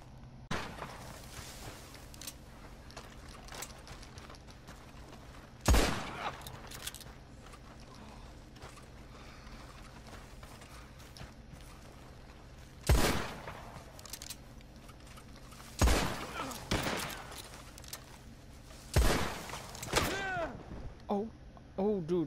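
Scattered hip-fire gunshots in Red Dead Redemption 2 Online, four or five sharp cracks spaced several seconds apart over quiet background noise, the last ones coming closer together.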